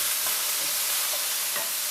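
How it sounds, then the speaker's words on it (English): Garlic sautéing in a pan for Creole pork chops with red gravy, a steady soft sizzle with faint stirring scrapes, close and continuous. "And we're just going to saute that"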